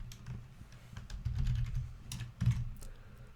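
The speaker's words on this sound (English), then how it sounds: "I'm going to do some typing" Keys clatter on a computer keyboard in quick, uneven bursts, close and fairly quiet, with a couple of heavier strokes near the end.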